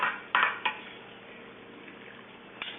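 Chicken flipped in a sizzling pan, with a few sharp metal-on-pan clatters early on and another near the end over a steady frying hiss, close and moderately loud, no talking.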